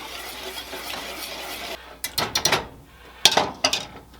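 Heavy whipping cream is stirred into a sauce in a pot, first a soft wet swirl, then a run of sharp spoon clinks and scrapes against the metal in short close bursts, with no voices.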